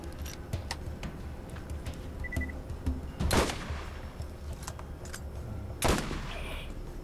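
Gunfire from weapons in the first-person shooter video game Borderlands: two sharp, loud shots about two and a half seconds apart over a steady game soundtrack bed.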